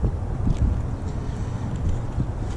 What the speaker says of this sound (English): it is a little windy today